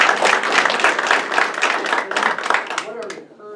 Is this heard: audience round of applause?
yes